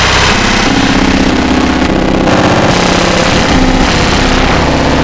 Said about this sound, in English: that's the Cyclebox doing its thing